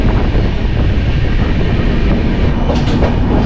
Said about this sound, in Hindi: पैरेलल ओवरटेक किया अपनी ट्रेन ने चंपारण हमसफर एक्सप्रेस को।